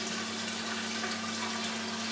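Steady water running from a pump-fed compact pond filter and returning by gravity into the pond, a continuous close splashing flow with a faint low hum beneath and no talking.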